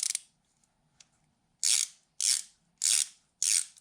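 A tubing cutter works through a stainless steel brake line on a Barracuda rear disc brake swap: a short scrape, a faint tick, then four evenly spaced bright grinding strokes close up, with nobody talking.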